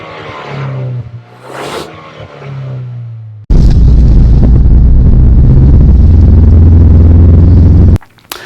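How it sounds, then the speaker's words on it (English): A 2019 Ford Ranger's 2.3-liter EcoBoost engine, its sound augmented through the cab audio system, drones at a moderate level, then surges into a loud, deep, sustained roar under hard acceleration before cutting off abruptly. "You are hearing your engine."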